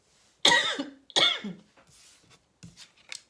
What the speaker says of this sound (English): that coughing was me.